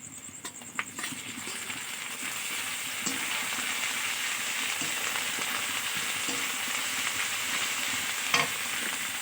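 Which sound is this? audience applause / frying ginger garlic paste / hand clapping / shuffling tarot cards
frying ginger garlic paste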